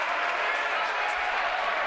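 Basketball crowd at a Marian University men's game roaring steadily through a tense late-game defensive stand, a dense, sustained wash of cheering and shouting with no break.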